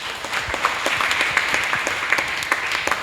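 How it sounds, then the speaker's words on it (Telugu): Loud clapping from a church congregation at a village Infant Jesus festival in Narapadu, dense and continuous with sharp individual claps standing out, filling the space with no talk over it. "గట్టిగా చప్పట్లు కొట్టండి"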